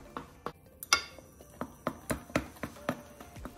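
Melted butter and marshmallows stirred in a pot for Rice Krispie treats, with a spoon knocking and scraping against the pot in irregular, fairly quiet taps close by.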